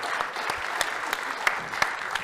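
Audience applause fills the room at the ShmooCon 2024 security conference as a talk begins, a steady dense patter of many hands with a few sharper claps, loud and continuous.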